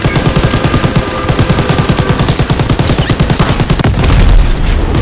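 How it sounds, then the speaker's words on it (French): Rapid machine gun fire in Call of Duty WWII, loud continuous bursts of evenly spaced shots running nearly the whole time, ending in a heavier blast and rumble near the close. "Mitrailleuse!"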